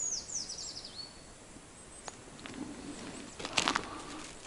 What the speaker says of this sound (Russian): Птицы по-весеннему уже поют.